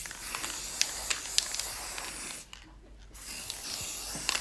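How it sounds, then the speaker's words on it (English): Spray paint can hissing onto a canvas, a steady close spray broken by a brief pause around the middle, with faint clicks over it. "Now once the painting is done with spray paint, I have to keep the canvas for drying up."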